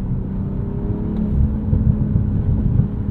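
Engine and exhaust of a 2023 BMW M340i on a mountain drive in California, a steady low drone heard from inside the cabin with a slight swell of rasp partway through, no talk over it.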